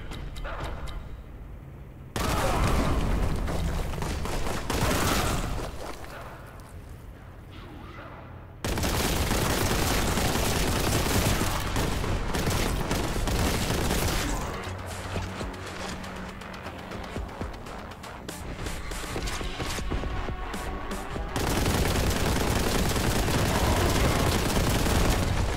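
Sustained bursts of gunfire and explosive blasts in the video game Warhammer 40,000: Boltgun, loud and nearly continuous with brief lulls and no talk.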